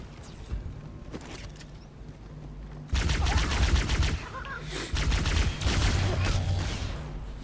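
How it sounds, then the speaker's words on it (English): Rapid energy-weapon fire from a plasma pistol at a grunt in Halo 2 on Legendary in the mission Regret, with dense bursts and repeated shots that grow louder midway and continue steadily to the end. "Look how long it takes me to kill a grunt with the plasma pistol."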